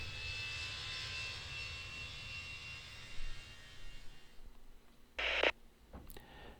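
An airliner takes off from a runway in an airport tower simulation game, with a steady engine roar that gradually fades, followed by a few short clicks and a brief burst of noise near the end.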